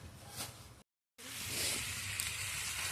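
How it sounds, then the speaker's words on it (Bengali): Meat and potatoes sizzle in a pan over a home clay stove, a steady soft hiss that cuts out briefly and then returns a little louder. "আলু দিয়ে মাংস কষানো চলছে এখন"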